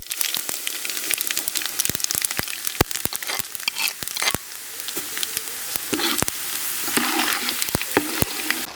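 Cumin seeds sizzle and crackle in hot ghee for semolina venpongal, a close, continuous frying hiss broken by sharp popping bursts, with no voices.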